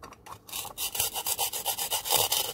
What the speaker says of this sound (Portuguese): Eu vou só cortar o alface mesmo.